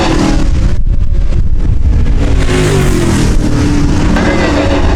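Midwest Late Model race cars charge to the checkered flag at the end of a heat race, a dense, loud engine roar with overlapping engines, and a voice faintly under the din.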